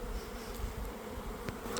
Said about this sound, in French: Il y a plus tellement, il y a moins d'abeilles